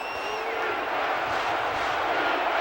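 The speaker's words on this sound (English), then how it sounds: "So this crowd is making their presence felt." Stadium crowd cheering at a Toledo Rockets at Oregon game in NCAA Football 13, a loud continuous roar with a few rising whistles and whoops, steady throughout, with faint commentary voices beneath.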